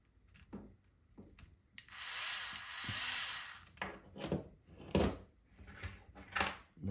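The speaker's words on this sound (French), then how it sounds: "La clé plate pour venir fixer l'écrou." A nut being tightened with a flat wrench while rear suspension links are fitted, heard as close metallic clicks and scrapes mixed with a few seconds of harsh rubbing, irregular and moderately loud, with no talking.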